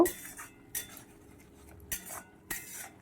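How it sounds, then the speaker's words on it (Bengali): Utensil stirring spiced fish-head and cabbage curry in a pan: a few distinct scraping clinks spaced apart, close and moderately quiet, with no talking. "ভালো করে আমি এটাকে নেড়ে চেড়ে নেবো যাতে ভালো করে মশলাটা মিশে যায়"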